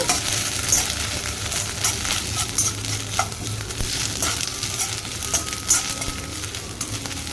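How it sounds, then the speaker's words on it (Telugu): Onions and ginger-garlic paste frying in a pan, a steady close sizzle with occasional stirring scrapes and small clicks throughout, no talking. "వేగాక ఉల్లిపాయలు వేసాను కదా ఉల్లిపాయలు కూడా కొంచెం ట్రాన్స్పరెంట్గా అయ్యాక అల్లం వెల్లుల్లి పేస్ట్ వేసుకుంటాను"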